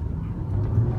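2008 Chrysler Crossfire Limited coupe with its 3.2 engine accelerating, a steady low rumble of engine and road noise heard from inside the cabin, continuous and moderately loud with no talk.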